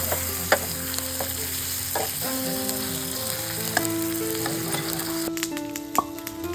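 Steady sizzling of paneer frying on a hot tava griddle, with occasional clinks of a utensil and a faint tonal hum in the background.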